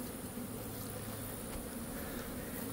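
Honeybees at a queenright hive, with a queen cell bank set above it, give off a steady, faint, continuous buzz with no pauses.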